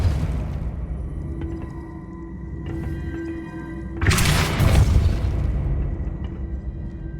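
Depulso spell cast in the video game Hogwarts Legacy, a sudden loud whooshing burst partway through over a steady low hum of game ambience, with a rumbling tail.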